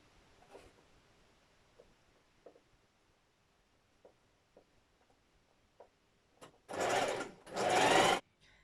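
A domestic sewing machine stitching two stretched layers of knit fabric for a skinny jogger waistband runs in two loud, close bursts of about a second each near the end, after faint quiet ticks.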